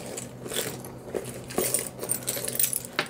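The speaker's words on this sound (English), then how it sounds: "My keychain, which has basically all the keys that I have ever owned." A keychain holding many keys jangles and clinks in bursts, close and clear, with no talk over it.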